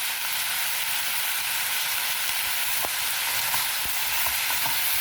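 Eggplant frying in a pan with turmeric and salt being stirred in, a steady close sizzle with a few soft scrapes from the spoon and no talking.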